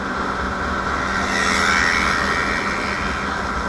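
A 300-class sport motorcycle speeds past on a highway group ride, a steady broadband engine and wind roar swelling to a peak midway and tapering off, heard from another moving bike.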